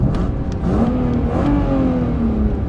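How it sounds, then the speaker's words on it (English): The engine of an engine-swapped BMW E36 revs up close and loud, pitch climbing and falling through a couple of throttle blips over a constant rumble. "I'll give it a little bit of a rev here so you can hear it"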